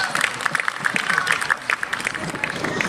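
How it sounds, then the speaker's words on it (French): An indoor audience applauds the winning dog at a regional dog show on Réunion island: dense, steady clapping from a crowd, with a voice talking over it. "un petit tour sous vos applaudissements"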